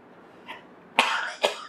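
A person gives a small throat sound and then two sharp coughs close to the microphone, the second cough shorter than the first, with quiet room tone around them.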